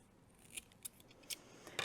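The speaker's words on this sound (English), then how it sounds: "Once you've cut the top and the bottom off, I go ahead and cut it roughly in half" Scissors snip through a flower stem a few times, the blades closing in quick, quiet cuts at irregular intervals against a soft background.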